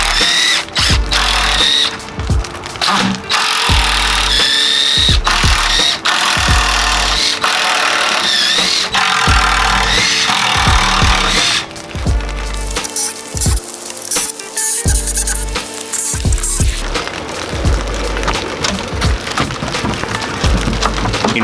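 Power drill backing screws out of a wooden skateboard quarter pipe during a mini ramp teardown, with repeated short whirring bursts and wood creaks and splintering sounds throughout, loud and close.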